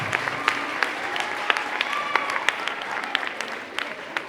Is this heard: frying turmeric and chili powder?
no